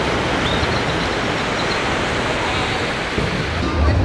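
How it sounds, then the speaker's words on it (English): A river flowing down from the mountains into the ocean at Mismaloya, Mexico, gives a constant broad wash of water noise, steady and fairly loud throughout, with no talk. "We have a river that flows from the mountains and goes out into the ocean"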